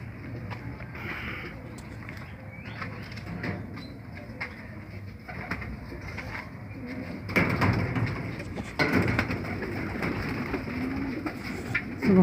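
Feeke Baajre pigeons coo in a loft, soft, low, repeated cooing mixed with rustling and shuffling that grows a little louder in the second half.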